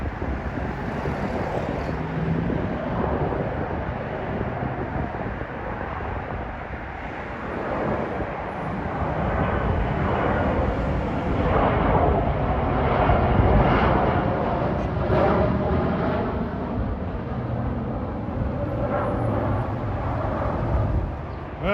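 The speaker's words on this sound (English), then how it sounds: "This next flight is a JetBlue flight from Raleigh-Durham to JFK with" JetBlue Embraer jet airliner flying toward JFK, heard from near the Rosedale LIRR station as a broad, steady roar with wind noise that slowly swells and stays loud, with no voices over it.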